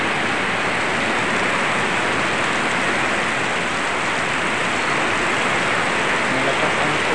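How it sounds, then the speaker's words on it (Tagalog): Strong floodwater rushing close to a house on an island, a dense, steady broadband roar with no breaks and no voices throughout. "Ang lakas ng tubig. Malapit na pasok sa bahay namin."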